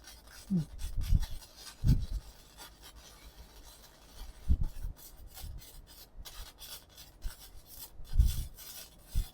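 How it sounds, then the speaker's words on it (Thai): Metal being welded for a homemade container: intermittent crackling, rasping bursts that come and go in uneven spurts over a low background hum, heard without talking. "ตอนนี้ กำลังเชื่อมอยู่นะคะทุกคน"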